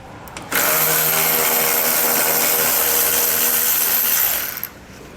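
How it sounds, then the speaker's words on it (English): A power tool spins a 13mm socket to back out the fascia bolts on a 2021 Buick Encore, a loud continuous whirring buzz of about four seconds that starts abruptly and winds down at the end. "we're going to remove both of those using a 13mm socket or wrench"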